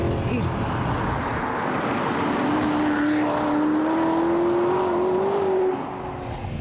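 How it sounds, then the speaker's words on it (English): A Maserati Quattroporte's V8 engine revs up hard, its loud, steady drone climbing in pitch over several seconds before easing off near the end. "you can really begin to stretch the legs of that yummy V8 engine"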